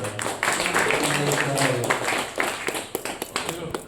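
An audience claps at a village religious gathering in Aladakatti, Haveri district. Sustained crowd applause runs throughout, mixed with voices, with sharper individual claps near the end.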